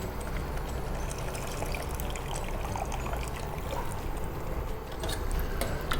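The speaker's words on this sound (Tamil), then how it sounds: "அந்த தண்ணி அதில் விட்டுலாம்." Tamarind water pours steadily into a pot of tiffin sambar, a lentil and vegetable stew, making a close, continuous splashing trickle for about six seconds with no pauses.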